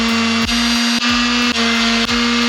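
A power sander whirs steadily up close on an epoxy-coated surface, its motor pitch dipping briefly about every half second as the tool is pressed and shifted.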